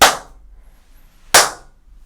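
Two sharp hand claps about a second apart ring out in an untreated room, each followed by a long, bright echoing decay.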